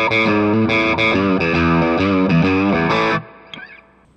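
Wampler Paisley Drive pedal giving a low-gain, edge-of-breakup guitar overdrive: dense chords strummed steadily for about three seconds, then the sound cuts off, leaving a faint ringing tail and a small final pluck.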